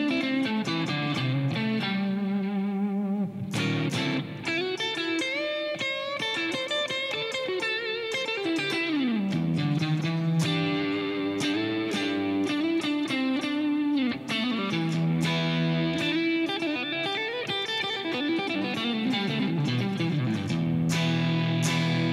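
Electric guitar played through a typical Marshall cabinet with light distortion, sustained chords and single-note lines sliding and ringing out, loud and continuous with no talking.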